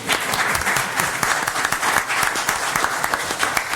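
Audience applauds at a Boynton Beach, Florida city commission meeting, steady dense clapping from a room full of people, close and continuous throughout.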